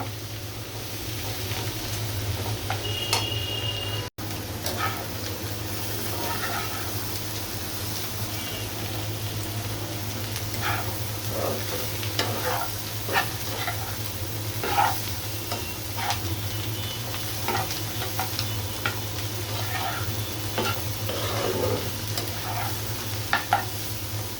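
Bitter gourd frying in mustard oil in a pan, giving a continuous close crackling sizzle with scattered pops and occasional stirring scrapes, and a low steady hum from the stove underneath, with no voices.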